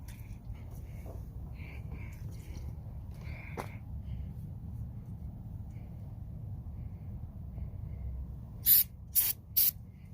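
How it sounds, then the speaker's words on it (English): Three quick, sharp hissing bursts of a spray bottle spraying cleaner onto a car window near the end, after a stretch of quiet low background hum. "now just gonna spray and use this rag to wipe"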